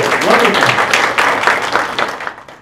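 Applause from an audience at a Winston-Salem college startup pitch event, a loud crackle of clapping with individual claps audible that tapers off at the end.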